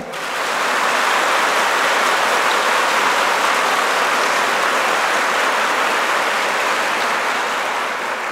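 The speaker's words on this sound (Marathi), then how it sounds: "टाळ्या जोरात वाजवा" Dense, sustained applause from a large kirtan audience at a birthday celebration gathering, loud and steady throughout with no voices standing out above the clapping.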